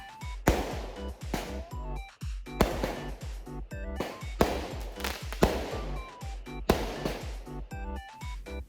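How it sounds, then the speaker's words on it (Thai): Fireworks set off at night make a rapid series of loud, close bangs and crackles, bursting repeatedly with short gaps and no talking. "พลุเสียงดังขนาดนี้"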